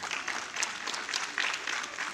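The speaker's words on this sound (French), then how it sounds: "j'aimerais avoir une salve d'applaudissements pour ces femmes qui sont ici ce soir" An audience at a women's progress event applauds, a steady, moderately distant patter of many hands clapping without pause.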